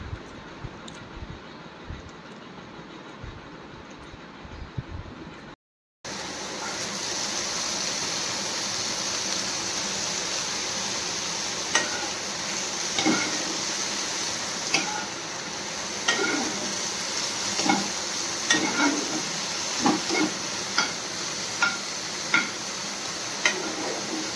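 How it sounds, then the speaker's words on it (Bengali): Moong dal being dry-fried and stirred in a pan, heard as a steady sizzling hiss with scattered light scraping clicks, following a brief quieter stretch and a short gap. "মুগ ডালটা এখন একটু ভেজে নিচ্ছি"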